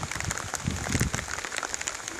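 Heavy thunderstorm rain pours down at a riverside campsite in a steady, close hiss, with dense pattering drops hitting nearby surfaces.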